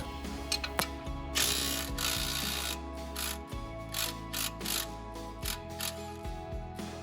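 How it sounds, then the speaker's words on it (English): A ratchet wrench with a socket works the front strut nut on a 2013-2018 fifth-generation Nissan Altima, giving close, crisp bursts of rapid clicking separated by short pauses, with no speech. "we are going to go on the front side of the nut and put our socket on there"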